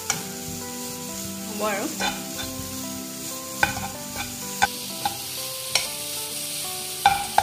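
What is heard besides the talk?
frying grated coconut with sugar in a pan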